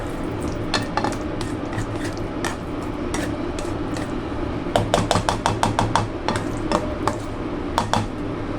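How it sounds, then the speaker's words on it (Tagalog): Steady frying hiss of marinated pork chops in a pan, with scattered sharp clinks and taps of utensils against the pan, growing busier toward the end. "nagpiprito na tayo ng ating pork chop"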